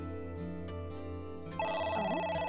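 A telephone rings in the video game AI: The Somnium Files, a bright electronic ringtone that starts partway through over steady game background music, close and clear.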